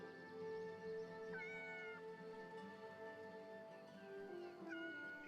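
A video game cat named Dusty, from Yes, Your Grace, meows repeatedly in soft rising and falling calls over steady background music, at a low level.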